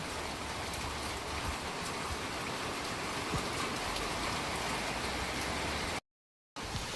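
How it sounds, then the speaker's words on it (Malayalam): Heavy, continuous rain pours steadily during a long monsoon downpour in Pathanamthitta, a dense unbroken hiss across the whole range, loud and even with no pauses, cut by a brief gap of silence near the end. "നല്ല ഗംഭീര മഴയാണ്"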